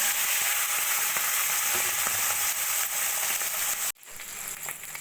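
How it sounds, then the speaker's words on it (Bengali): Tangra fish frying golden in hot oil in a wok, a loud, steady sizzle and crackle that runs without pause, then cuts out sharply near the end before resuming more softly. "এবার আমি মাছগুলো সোনালি করে ভেজে নিয়েছি"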